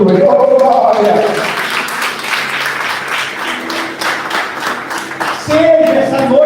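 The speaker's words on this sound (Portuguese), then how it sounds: "Então palmas para o Senhor Jesus" Congregation in a church service clapping and applauding for Jesus, a dense sustained wash of hand claps with voices calling out over it throughout.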